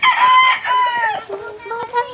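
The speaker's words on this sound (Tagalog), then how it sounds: "Tuktulaok. Dahil manok." A rooster crows up close and loud in several drawn-out, wavering calls, with a few clucks and soft background chatter mixed in.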